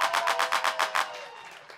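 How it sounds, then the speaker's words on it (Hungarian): Audience at a live hip-hop concert clapping in unison for the DJ, about eight loud rhythmic claps in quick even succession that then stop, leaving a faint murmur of crowd noise. "Meg közben egyszer tapsoljátok meg DJ meghajtót is"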